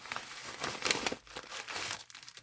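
Paper envelope holding doll clothes being opened, with steady close crinkling and crumpling of paper over a couple of seconds and a brief tearing sound.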